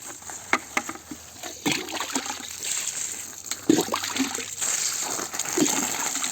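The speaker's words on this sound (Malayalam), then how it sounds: "നമുക്ക് ഈ പയറിനും കൂടെ ഒഴിച്ചു കൊടുക്കാമേ" Leftover rice water is poured from a container onto bean plants in a home vegetable garden, giving a soft, close trickle and splatter with scattered drips and splashes against light background hiss.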